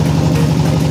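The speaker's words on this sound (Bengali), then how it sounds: "এখন আমরা নৌকাতে সামনে এগোচ্ছি।" A motor boat engine drones steadily on a river, close and loud, holding an even low idle-like hum throughout with no voices.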